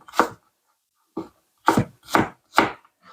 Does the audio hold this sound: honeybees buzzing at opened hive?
no